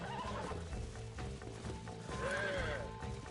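Horse in the Red Dead Redemption video game, a loud, close whinny rising and falling near the end, over a steady bed of hoofbeats, shuffling and background game sound.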